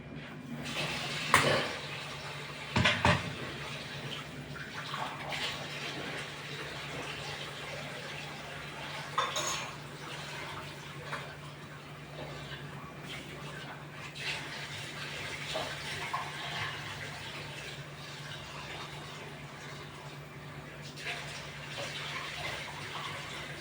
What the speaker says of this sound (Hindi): अब ये दाल को धो के